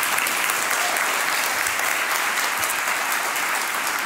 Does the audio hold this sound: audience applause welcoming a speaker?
yes